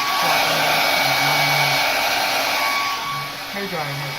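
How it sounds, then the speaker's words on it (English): A hair dryer blows steadily on its cooling setting, a loud, continuous broadband whoosh with a faint motor whine that dips slightly near the end. "Hair dryer has a cooling button on it, so utilize that."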